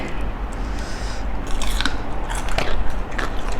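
Close, loud crunchy chewing of Thai spicy tam sabai nang salad, with steady wet bites and crisp crackles running throughout.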